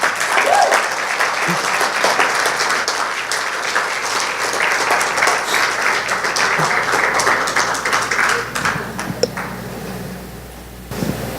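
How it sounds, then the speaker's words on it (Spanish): A church congregation applauds to welcome someone speaker, steady dense clapping close and loud throughout, thinning out in the final seconds. "yo quiero que la recibamos con un buen aplauso en esta."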